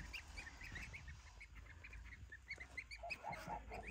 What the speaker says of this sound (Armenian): Սա սագերը։